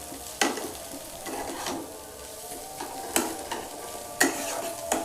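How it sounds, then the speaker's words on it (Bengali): Egg and pumpkin roast is stirred in a frying pan, with a soft continuous sizzle broken by several sharp scrapes and knocks of the spatula against the pan, close and without talk. "দেখো বন্ধুরা, ভালোভাবে নাড়াচাড়া করতে হবে।"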